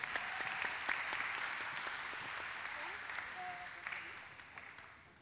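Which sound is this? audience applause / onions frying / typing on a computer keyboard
audience applause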